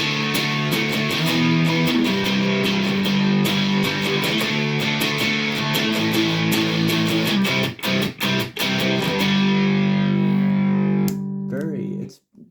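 Electric guitar through a Catalinbread WIIO pedal with the gain maxed, giving a thick, loud, near-fuzz distortion of sustained chords and strummed hits that cuts off with a brief pause before ringing out and stopping.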